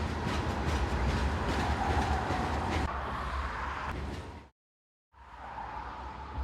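A long coal train trundles past on an Eastern Virginia railroad, a steady loud rumble of wagons with rhythmic wheel clatter, cutting briefly to silence before the rolling noise resumes.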